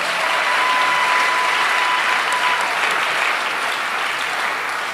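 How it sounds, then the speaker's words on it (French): An audience at a church conference applauds the organizing committee with a dense, steady, loud round of clapping that lasts the whole moment and fades only slightly at the end. "Nous acclamons tout le comité."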